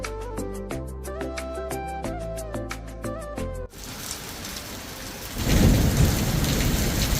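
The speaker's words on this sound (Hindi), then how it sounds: "अब देखिए बारिश भी तेज हो रही है, साथ में हवाएं भी तेज चल रही है" A melodic, tonal passage of music gives way to a wash of heavy rain with strong wind, which swells louder with a deep thunder rumble underneath toward the end.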